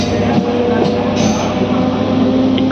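A MEMU passenger train on the Vijayawada–Bhadrachalam road line runs steadily, a loud continuous rumble and rattle of carriages heard from on board throughout.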